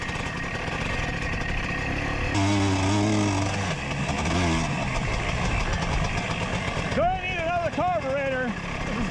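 An abandoned ATC 250R three-wheeler engine runs and idles with a buzzy two-stroke drone, then revs up in several rising and falling bursts near the end, with people talking over it.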